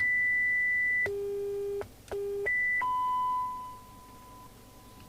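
A Uniden Uniace 100 CB radio emits a sequence of steady electronic beep tones, switching pitch several times with brief clicks between them, clear and alone before fading.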